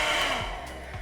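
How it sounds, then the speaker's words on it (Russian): A hotel-room hair dryer running with a steady, loud blowing whir that holds throughout, with a couple of faint low thumps and no talking. "Нормальный фен, достаточно мощный"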